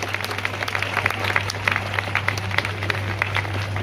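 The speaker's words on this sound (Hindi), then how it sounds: "एक बार जोरदार तालियां।" An audience at a live event in Khedar village applauds with a dense, continuous patter of clapping over a low electrical hum from the sound system.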